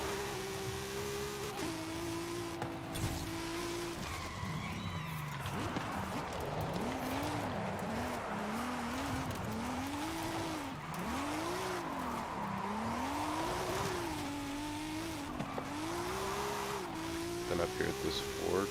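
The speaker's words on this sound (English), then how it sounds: "this car is like unreasonably hard to drift because I was in 4th gear" Car drifting in Forza Horizon 5 with the engine in fourth gear, revs swooping up and down repeatedly while tires squeal through long slides, loud and continuous.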